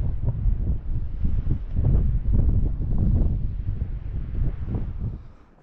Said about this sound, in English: because it's a little bit windy and the sun's not out